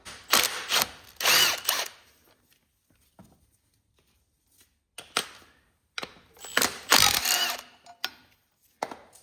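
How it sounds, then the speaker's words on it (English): An impact wrench rattles out 17 mm bolts holding the gear reduction starter on a Super Cub Cadet 1782 lawn tractor with a Kubota diesel engine. Two loud, close hammering bursts of about two seconds each sit on either side of quieter clicks and handling noises. "We have all the bolts, 17 millimeter to take that out. Going to use an impact and take them right out."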